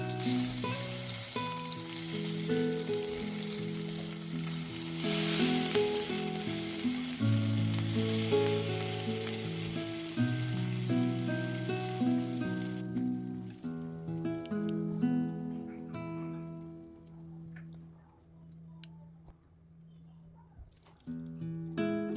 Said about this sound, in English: I quickly fry them in the same oil on high heat.